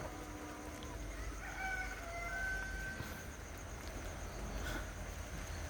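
Chickens cluck and call in a coop, a rooster-like crowing line rising faintly over a low, steady background rumble, with the birds sounding fairly distant and intermittent.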